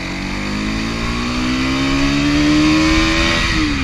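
A Bajaj NS 200 BS6 motorcycle ridden with a pillion in first gear at about 60, its engine a loud, steady drone whose pitch climbs smoothly then dips slightly near the end.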